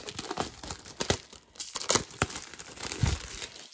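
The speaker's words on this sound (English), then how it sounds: "rip the plastic off" Plastic wrapping being ripped off a new Opel Mobile SmartFlip phone during unboxing, a close run of crinkling, crackling tears and rustles in irregular bursts over a few seconds.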